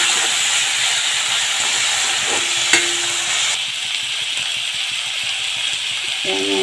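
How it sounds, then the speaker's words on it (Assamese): Tomatoes fry in a pan for an Assamese fish curry, giving a steady close hiss of sizzling oil that drops slightly partway through, with a brief clink of a utensil and no talking. "বিলাহীখিনি মই এনেকৈ সিজালৈকে ভাজি ল'ম"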